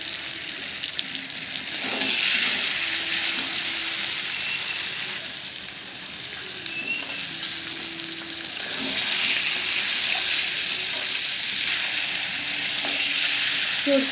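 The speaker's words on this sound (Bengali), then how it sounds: "চর্বিটা ভালো করে কষিয়ে নেওয়া হয়ে গেছে।" Goat fat sizzling as it fries in a pan with cumin powder, a steady close hiss that swells and eases with occasional stirring, heard alone without talk.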